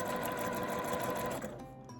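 A sewing machine runs a steady fast stitch through fabric while sewing a drawstring bag, close and even for most of the moment before slowing and trailing off.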